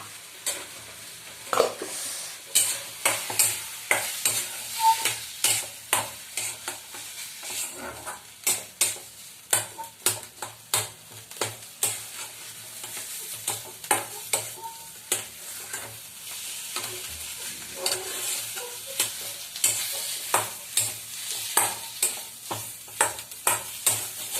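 Bread patties fry in oil with a constant sizzle, broken by repeated sharp scrapes and clinks of a utensil against the pan at an uneven pace, close and fairly loud.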